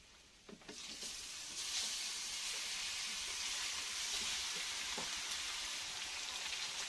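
Garlic and chopped onion drop into a hot clay pot for bhuna khichuri and start a loud, steady sizzle, with a few faint clinks of a utensil against the pot.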